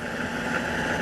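A Kioti RX7320 farm tractor engine runs steadily with a constant mid-pitched drone, close and moderately loud, no talking over it.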